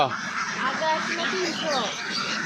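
Ducks on a large farm of about 450 ducks quack in short, scattered calls, with a person talking over them nearby.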